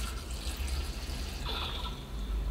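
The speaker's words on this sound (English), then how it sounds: "it keeps the water in when there's no suction, but allows the water out when you provide it with enough pressure to to squeeze the water out" Water is squeezed out of an aerodynamic sports water bottle in a continuous hissing, splashing stream that shifts in tone partway through, heard alone and close.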